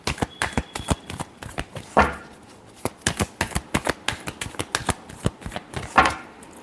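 Tarot cards being shuffled up close, a fast run of crisp flicks and slaps with a couple of heavier riffle bursts, loud and unbroken by voices.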